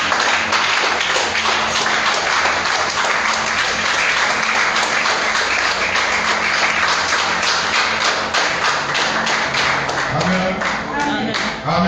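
A church congregation at a French-language evening service claps loudly and steadily to acclaim the Lord, dense sustained applause with rhythmic hand claps and scattered voices throughout.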